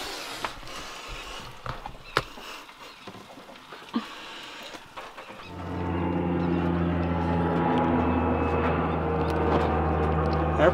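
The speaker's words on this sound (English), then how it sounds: "Airplane." A low engine roar swells in and holds steady as an airplane passes overhead of a sailboat, following quieter ambient noise with a few knocks.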